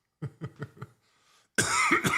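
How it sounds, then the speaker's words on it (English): Four quick, close coughs in a row, a brief pause, then a loud harsh blast of coughing right into the microphone. "sorry to cough right in the microphone"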